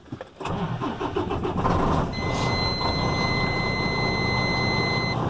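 A diesel truck engine cranks and catches, then settles into a loud, steady, close rumble while a thin, high electronic beep sounds over it.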